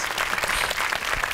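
Studio audience on a Turkish TV game show breaking into loud, dense applause with many hands clapping up close, steady throughout.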